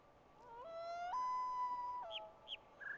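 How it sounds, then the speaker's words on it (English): A loon's wailing call from the environment of the video game The Witness: long, clear, tremulous tones that rise and hold steadily, then drop, followed by a few short higher yelps, sounding alone and fairly near. "I think I'm supposed to listen to the loon."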